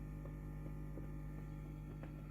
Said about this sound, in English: The operation of this is equally as quiet as some of the smaller pumps I've tested and sounds like this.